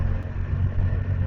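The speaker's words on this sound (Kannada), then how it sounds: "RX ಬೈಕ್ ನೋಡಿ, ತಮಿಳ್ನಾಡು ರಿಜಿಸ್ಟ್ರೇಷನ್." Yamaha RX two-stroke motorcycle with Tamil Nadu registration going past on the road, a steady low engine rumble close by with no talk over it.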